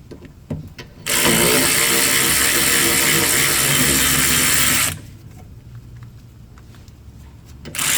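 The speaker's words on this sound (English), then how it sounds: "Electric ratchet." An electric ratchet whirs loudly and steadily for about four seconds while working on the rear brakes of a 2012-2017 Toyota Camry. Quieter workshop clatter comes before and after it.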